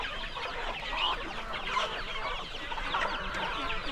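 Flock of farm chickens clucking steadily and continuously at close range, many overlapping calls, no talking.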